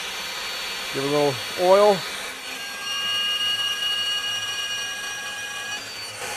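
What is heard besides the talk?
magnetic drill boring through steel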